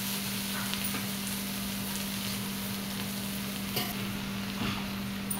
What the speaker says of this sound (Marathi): आई अळू डायरेक्ट फोडणीला